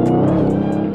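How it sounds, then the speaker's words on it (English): A car revving hard with its back tires spinning and traction control on, a loud, close, continuous engine drone held for a moment. "Back tires spinning,"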